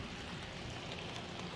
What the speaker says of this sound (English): I hear a storm.